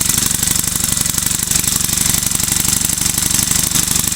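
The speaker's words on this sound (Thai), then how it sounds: "แต่นี้เหมือนจะได้ยินเสียงวาว วาวมันดีดแรงขนาดนี้น่าจะวาวเหลือนิดนึง" Small lawn mower engine running fast and loud close by, a dense rapid rhythmic clatter with sharp repeated ticks suggesting valve noise, steady throughout.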